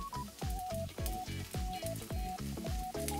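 Okonomiyaki batter fries on medium-low heat, giving a steady, close sizzle. Light rhythmic background music plays along with it.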